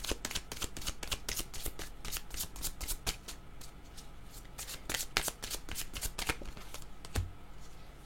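Tarot cards being shuffled close up, a rapid series of crisp riffling bursts and flicks repeating throughout, quiet and dry with no talking.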